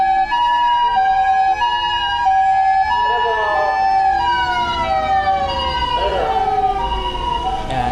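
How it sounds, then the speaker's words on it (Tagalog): Ambulance siren on a street in Japan: a wailing tone that sweeps and shifts pitch continuously over steady traffic rumble, fairly close and loud throughout, with no talk over it. "kasi dyan yung ambulansya"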